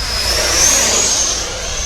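An FMS F-16 70mm electric ducted-fan RC jet flies past outdoors, giving a loud, continuous high-pitched whine and rushing roar that swells slightly and then eases, with no talk.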